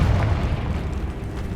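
A Confringo fire spell explodes in Hogwarts Legacy: a loud, close blast that settles into a steady, heavy low rumble lasting well over a second, with no voices.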